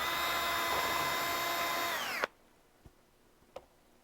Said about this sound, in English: We're going to put a hole in each side.